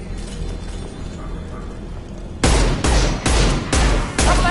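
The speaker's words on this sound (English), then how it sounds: "Taking heavy fire." Heavy gunfire in the sci-fi shooter game Mass Effect 2 arrives as five loud, close bursts in quick succession, following a few seconds of low steady background ambience.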